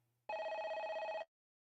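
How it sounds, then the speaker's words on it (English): A telephone in the video game Parasite Eve gives one short electronic ring lasting about a second, steady and clear against a quiet background. "Oh, it's a phone."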